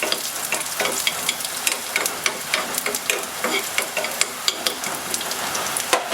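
Shallots frying in hot oil for a Kerala prawn theeyal, a steady dense crackling sizzle with frequent sharp pops and spatters, close and fairly loud throughout, with no talking.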